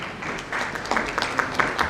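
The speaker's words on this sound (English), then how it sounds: "If we're clapping, let's do it with all our heart" An audience at a conference keynote session applauds to welcome the speaker, a moderate crowd of scattered claps with some louder individual hand claps standing out, fairly close and steady.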